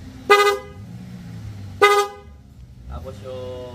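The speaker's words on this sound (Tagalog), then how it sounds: "Ay, busina." Horn of a Honda Click/Vario 125/150 scooter sounding through a newly installed Daytona handlebar switch with electronic relay: two short, loud, close beeps about a second and a half apart, followed by a softer third toot with quiet talk around it.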